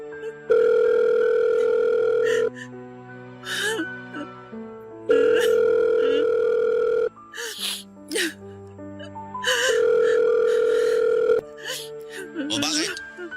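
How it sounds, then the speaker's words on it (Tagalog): Outgoing phone call ringback: a steady electronic tone sounds in three long bursts separated by gaps, with a voice talking and sighing in the pauses. "Susubukan kong tawagan siya ngayon."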